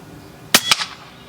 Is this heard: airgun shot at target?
yes